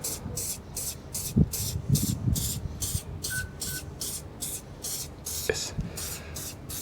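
Rapid, evenly spaced spray bursts hiss in a steady rhythm as a product is sprayed onto a van's bodywork and handles, close by, with occasional knocks and handling noises in between.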